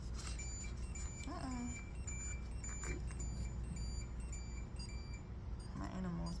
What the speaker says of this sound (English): My animal is beeping over here.